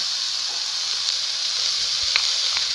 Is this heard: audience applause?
no